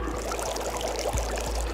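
Water drains from an unplugged sink in the Zero Time Dilemma video game, a steady close gurgling pour and trickle that runs without pause, with no voices.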